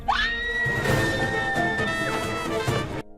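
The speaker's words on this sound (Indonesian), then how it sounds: "tiba-tiba terdengar suara teriakan" A woman shrieks in surprise, one long, high, sustained scream that holds steady for about two seconds before breaking off, loud and close.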